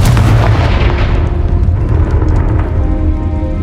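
A Confringo spell explodes in the video game Hogwarts Legacy, a loud, close, deep booming blast that rolls on with a rumbling low tail and crackling debris, no voices over it.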